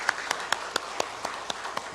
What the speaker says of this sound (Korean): 다시 한번 박수 한번 보내드리겠습니다